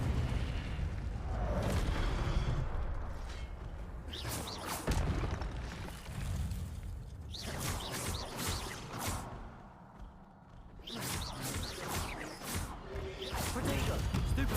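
Harry Potter video game spell effects fire off in quick succession, with several loud booming, crashing whooshes and fiery bursts separated by brief lulls.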